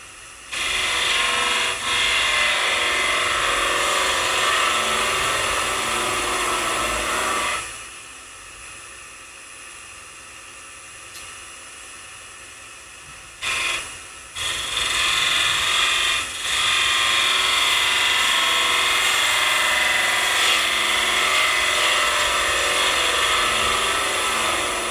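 Wood being cut on a lathe with a small spindle gouge while turning an Easter egg, a loud, steady, close shaving and rasping that drops out for a few seconds and then returns.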